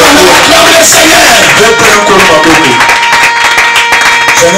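A church congregation claps loudly and steadily while acclaiming the Lord, dense rapid applause mixed with shouts of praise and raised voices, close and filling the room throughout.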